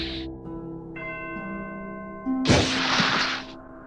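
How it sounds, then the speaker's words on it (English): A resonant bell toll rings out as a teardrop falls, a single struck chime with a bright, noisy attack and a sustained ringing tail, following quieter tonal music. "the bell toll from that teardrop really sells this moment"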